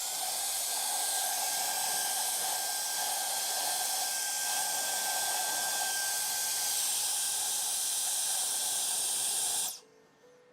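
An air blower blasting compressed air into a lamp housing during a bulb change, giving a steady, loud hiss for about ten seconds before cutting off abruptly.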